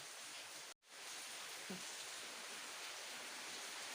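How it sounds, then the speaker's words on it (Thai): Steady rain falls hard in Surin in the early morning, a broad unbroken hiss that cuts out for an instant near the start, with no one talking. "ฝนตกแรงเลยพี่น้อง"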